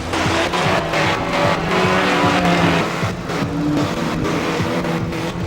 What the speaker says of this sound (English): William Emery there spins out at the bottom bend